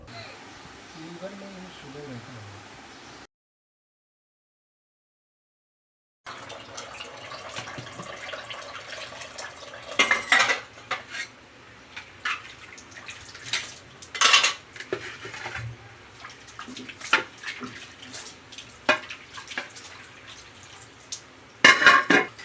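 Cutlery and dishes clink and clatter under running water, with scattered sharp knocks of metal on metal. A voice talks briefly at the start.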